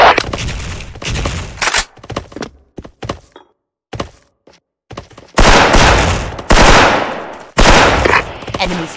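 Bursts of M4A1 rifle fire in a first-person shooter game, loud, sharp automatic volleys separated by short gaps, with a few isolated thuds between the strings of shots.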